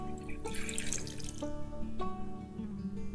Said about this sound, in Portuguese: E agora vamos enchendo lentamente para não revirar o cascalho.